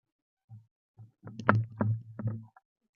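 Liquid organic hydroponic nutrient is strained, producing a few soft gurgling splashes and sloshes that swell briefly and then trail off in a quiet setting.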